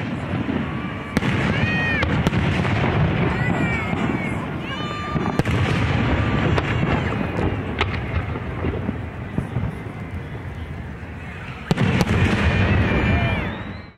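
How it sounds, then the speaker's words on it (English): A fireworks show launched from a barge: repeated deep booms, rising whistles and crackling bursts sound loud and continuous over a murmur of spectators. "As the sun went down, the first firework was launched just after 10 p.m."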